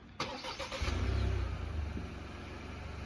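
A 2024 Ford Escape with the 1.5 EcoBoost engine is started by push button: a short starter crank, then the engine catches with a brief rev flare and settles into a steady, close idle.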